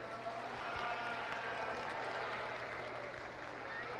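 Audience applause in a county fair livestock arena after a sheep class, a dense, fairly faint patter of clapping over a constant low hum of the hall.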